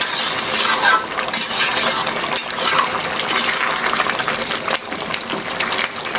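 Shrimp and Malabar spinach curry stirred in a pot, a wet, clattery scraping and sloshing with small metallic knocks, close and continuous without talk.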